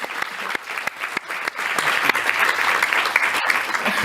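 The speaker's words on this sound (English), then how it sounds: "can we give Roni a huge round of applause?" Audience at a talk with engineer Roni Savage breaks into applause, many hands clapping in a dense, steady patter that swells slightly partway through and keeps going.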